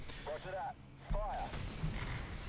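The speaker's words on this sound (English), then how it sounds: "There we are, artillery has been ordered." An artillery strike booms in the War Thunder tank game, low heavy rumbling under a continuous engine drone, with someone talking over it.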